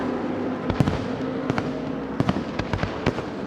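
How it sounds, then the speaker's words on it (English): Fireworks display above the Spa race circuit during a 24-hour endurance race: repeated sharp pops and crackling bursts, some close together, over a steady background rumble, with no talk. "now we have the firework display"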